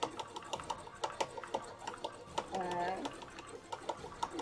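A domestic sewing machine stitches red thread on cosplay fabric in rapid rhythmic bursts of needle clatter, fairly quiet and close. A short whirring run sits in the middle of the stitching.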